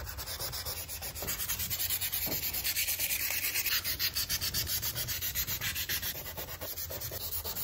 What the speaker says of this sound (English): sand them down a little bit just to make sure each of the areas is equally roughed up